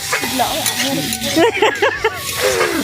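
Kohlrabi frying with spices in a pan, a steady sizzle with stirring scrapes and clinks of a utensil throughout, close and fairly loud, with a voice speaking over it at times.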